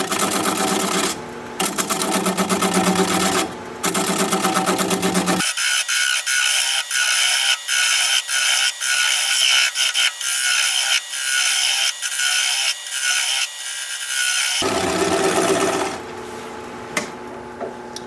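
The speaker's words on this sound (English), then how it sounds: "Spin the piece up at about 500 RPM and commence to removing that tenon." Wood lathe spinning a bowl blank at about 500 RPM while a 3/8 inch bowl gouge cuts away the tenon: loud, continuous rough scraping and chattering, with short breaks between cuts and a steady machine drone.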